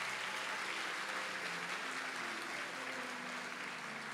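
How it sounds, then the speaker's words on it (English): An awards ceremony audience gives students a dense, steady round of applause that sounds like a continuous roar of many clapping hands, loud and even throughout. "So how about another round of applause for our students?"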